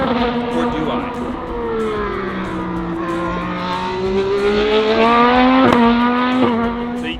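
Race car lapping Barber Motorsports Park, its engine note falling under braking into a corner and then rising steadily as it accelerates out, with sharp clicks near the end, loud and close with no talk.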